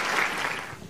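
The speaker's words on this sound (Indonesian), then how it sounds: "Tepuk tangan sekali lagi buat mereka semuanya." A studio audience at a comedy show applauds in a short, fairly soft wash of clapping lasting under a second.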